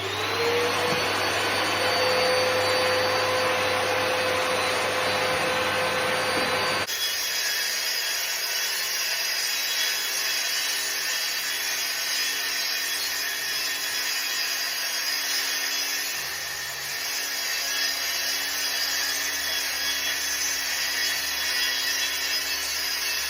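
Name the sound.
rail saw with attached vacuum cleaner cutting kitchen worktop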